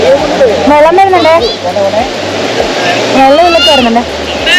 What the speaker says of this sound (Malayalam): വെള്ളം വരുന്നുണ്ടേ